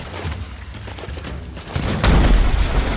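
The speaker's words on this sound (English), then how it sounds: "I got hit with 2 guns in like 1 second." Gunfire and booming blasts in the pirate video game Sea of Thieves, a loud burst of overlapping shots that swells into heavy low thuds near the end, with no talk.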